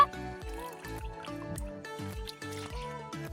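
Fish and a cooking pot are washed in pond water, with continuous splashing, dripping and sloshing of water close by.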